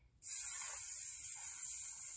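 A human voice imitates steam escaping from a steam engine with a single sharp, sustained 's' hiss that starts abruptly and holds steady and loud for about two seconds.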